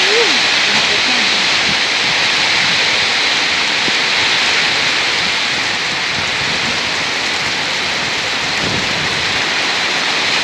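Heavy rain pours all day, a dense, steady broadband hiss that stays loud and unbroken, with a voice faintly audible beneath it.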